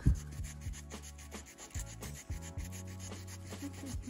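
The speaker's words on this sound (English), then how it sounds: "it's just regular white distilled vinegar. And you scrub." Rust is scrubbed off a vintage Raleigh 410 Capri bike with aluminum foil and white distilled vinegar, producing close, rhythmic rasping rubs in short uneven strokes.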